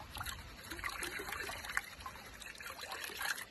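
Water swishing and trickling in a gold pan being shaken and agitated to wash out coarse material, a continuous soft sloshing with small splashes throughout, no talk.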